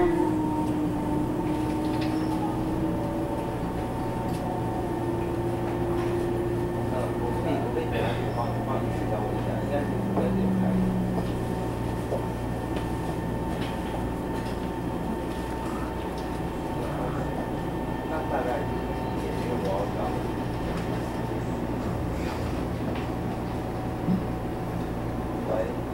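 A Taiwan Railway EMU700 commuter train running between Zhongli and Puxin, heard from inside as a steady rumbling hum of motors and wheels with faint tonal whine and an occasional clatter, continuous throughout.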